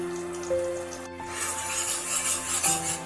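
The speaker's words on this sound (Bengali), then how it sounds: "টমেটোটা ফুটে ওঠার পর এই মশলা দিয়ে আমি একটু নেড়ে নিচ্ছি।" Ground spice paste is stirred with tomatoes in a pan over the flame, with soft scraping and rubbing strokes alongside a gentle bubbling sizzle, heard close and steady against a faint background hum.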